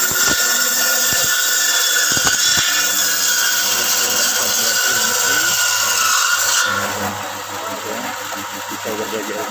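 A home-built 1.1 kW bone-cutting saw machine runs loud and steady with a constant motor whine, a few sharp ticks early on, then the pitch and level drop near the end as the cut changes.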